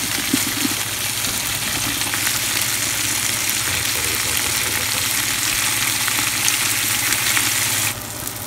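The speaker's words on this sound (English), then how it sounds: "We got some red wine deglazing going on in there." Red wine hits a hot pan smeared with caramelized, slightly burnt tomato paste, giving a loud, continuous sizzle and bubbling hiss that holds steady for several seconds, then eases slightly near the end.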